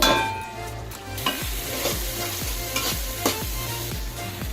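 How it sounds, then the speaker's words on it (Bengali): Spice paste for a Bengali fish curry in coconut milk fries and is stirred in a pan, a steady sizzle broken by repeated scraping strokes of the spoon, close and fairly loud, with no talking. "আমার মশলাটা এখনও কষানো হয়নি আরও কষানোর জন্য আমি অপেক্ষা করব"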